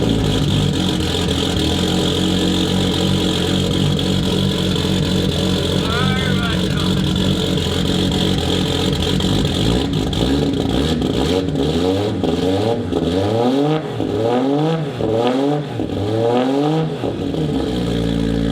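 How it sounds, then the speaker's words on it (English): An inline-6 Nissan Z with a straight 4-inch exhaust and high-flow cap idles with a steady drone, then blips through a run of rhythmic revs rising and falling, loud and close, with a voice talking over it. "Bit of back-to-back comparison of the exhaust. This is a straight 4-inch with a high-flow cap."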